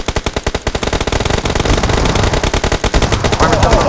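Rapid automatic gunfire in a video game, a loud, dense stream of evenly spaced shots that continues for the whole stretch.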